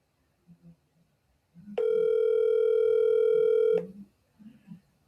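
A telephone call tone: a steady, loud electronic tone sustained for about two seconds on the line, with faint murmurs before and after.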